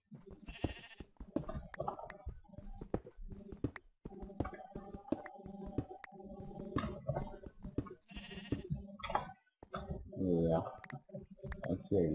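Sheep bleat in a video game, several calls popping up between frequent game clicks and effects, with someone talking over much of it.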